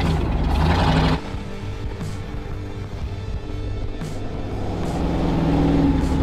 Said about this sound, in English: I can actually hit the gas and go, not just chug.